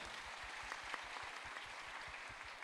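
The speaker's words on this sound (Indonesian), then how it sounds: "kasih tepuk tangan dulu." Indoor audience at a seminar on crypto regulation giving steady applause, a dense even patter of many hands clapping, fairly faint and distant, with no voices over it.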